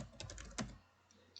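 Quiet computer keyboard typing while naming cells in an Excel spreadsheet: a short run of soft key clicks, then a louder single keystroke like Enter, near and faint, with no voices.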